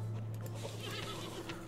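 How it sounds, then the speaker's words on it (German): A horse whinnies in the video game Above Snakes, a short shrill neigh over steady low game ambience and a constant hum, with faint hoof clatter mixed in. "Dann satteln wir unser Pferdchen"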